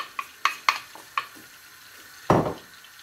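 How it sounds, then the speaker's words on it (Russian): Onion going into melted butter in a pan: a few sharp utensil clinks and taps, then a sudden louder burst of sizzling that fades back down. "Опускаем лук и обжариваем лук."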